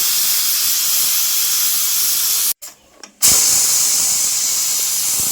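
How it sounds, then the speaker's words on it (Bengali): A pressure cooker cooking beef with potatoes and lentils vents steam in a loud, sustained hiss, cut off by a short muffled break before the hissing jet resumes just as strongly. "দেখেন বেশ কয়েকটা সিটি দিয়ে নিলাম"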